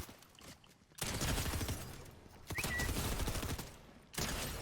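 Shotgun blasts in Fortnite, loud bursts of gunfire in three separate stretches, each a dense roar of shots that breaks off into brief quieter gaps.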